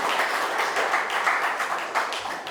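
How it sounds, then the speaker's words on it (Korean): An audience at a hospital-run community health lecture claps together in sustained, dense applause, a steady patter of many hands filling the room from start to finish. "깊은 감사의 박수로 한번 서로 인사할까요?"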